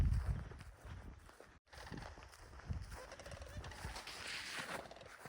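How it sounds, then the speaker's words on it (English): Birds call near a geothermal area at Old Faithful, a series of gobbling, fowl-like calls at moderate distance, mixed with footsteps and light movement on the trail. "I think it's those birds."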